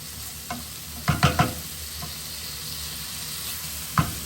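Chopped cabbage fries in a pan at fairly high heat for haddock colcannon, with a steady hiss and a few close scraping, knocking stirs bunched together, then one more later.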